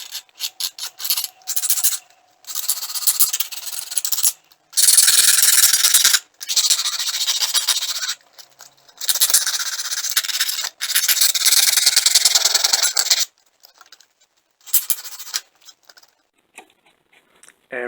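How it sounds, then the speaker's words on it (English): A file rasps against the sharp edges of a paperboard doll box insert in repeated loud, close bursts, some several seconds long, separated by brief silences and light handling taps. "I'm just going to file the edges here so that they aren't sharp and jagged"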